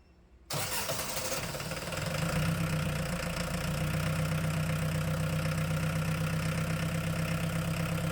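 A diesel engine cranks and starts, then settles into a steady, rough idle that continues evenly, close by and with no voices.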